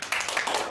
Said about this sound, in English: This is the king of unnecessary applause breaks